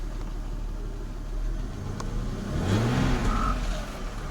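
A rebuilt ES9A V6 engine runs steadily at close range, a low continuous drone that swells slightly in the second half with a faint tonal whine over it, and no talking.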